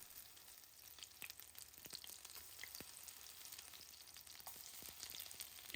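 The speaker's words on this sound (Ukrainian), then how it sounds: "Обсмажую оладки з обох сторін до золотавої скоринки" Zucchini fritters sizzle and crackle in hot oil in a pan, a steady frying hiss with scattered pops, quiet and close, no talking.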